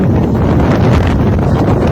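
Strong wind roars steadily across a mountain cliff at Mt. Riwata in Rizal, a dense, continuous rumble of gusts buffeting the microphone close up for the whole stretch.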